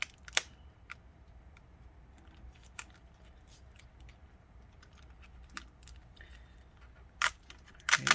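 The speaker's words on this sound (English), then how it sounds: "I'm going to separate the keyboard backlight layer from the keyboard itself" Keyboard backlight layer peeled away from an HP Pavilion x360 14m-cd0003dx laptop keyboard: quiet, sporadic crackles and sharp ticks against near silence, with a few louder snaps toward the end.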